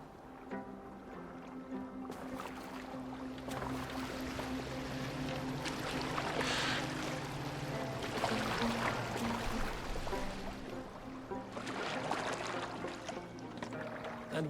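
A boat in Assassin's Creed Valhalla moving across water, with a continuous rush and splash of water against the hull and swells of louder sloshing, under a low background of ambient music.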